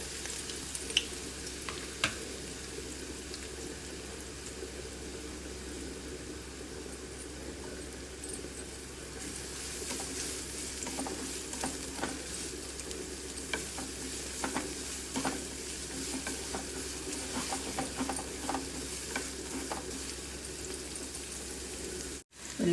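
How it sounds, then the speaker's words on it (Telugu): Onions and green chillies fry in oil in a pan, giving a steady close sizzle with occasional stirring scrapes and light clinks. The sizzle grows brighter partway through, and no one speaks. "బాండి పెట్టి ఆయిల్ వేసి ముందుగా ఉల్లిపాయలు, పచ్చిమిరపకాయలు వేసి దోరగా వేయించుకోవాలి."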